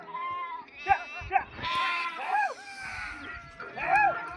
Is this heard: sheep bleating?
yes